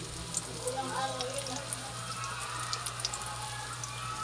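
An eggplant omelette (tortang talong) fries in oil with a soft, steady sizzle and small crackles, and people talk nearby.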